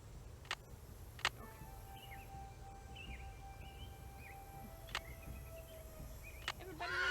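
Chickens cluck and squawk softly on a ranch in the video game Nancy Drew: Secret of Shadow Ranch, with several short calls over a steady low background and a few sharp clicks.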